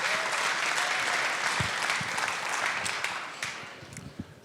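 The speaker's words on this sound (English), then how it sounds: "Give yourselves a round of applause." Spectators at a pool tournament, a bank-pool match at the Derby City Classic, give a sustained round of applause, a dense wash of clapping that slowly thins out toward the end with a few isolated claps.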